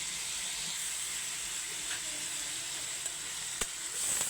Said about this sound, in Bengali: এবার আমি শিং মাছটা দিয়ে দিচ্ছি।